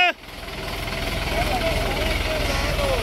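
A 55 hp Eco Master 554 4x4 tractor engine pulls steadily in first gear over ploughed field soil, a loud continuous low rumble with a rhythmic throb that holds constant throughout.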